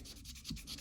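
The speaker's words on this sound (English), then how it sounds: "I have a sanding block. I use it just for this." A sanding block rubs back and forth over a rasped wooden surface in short, soft, rhythmic scraping strokes, close and quiet with no voices.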